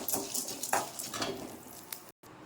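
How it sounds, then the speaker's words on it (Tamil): Chana dal fries in oil in a pan, a soft close sizzle with light stirring and scraping clicks that lasts a couple of seconds. "எண்ணெய் ஊற்றி கடலைப்பருப்பை போட்டு வறுப்போம்."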